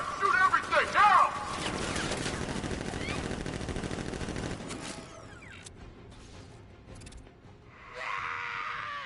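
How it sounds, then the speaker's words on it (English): Sentry guns firing in the video game Batman: Arkham Knight, a loud sustained burst of rapid gunfire and mechanical clatter over the first five seconds, then quieter game sounds with talk over the mix. "Activate sentry guns on my mark."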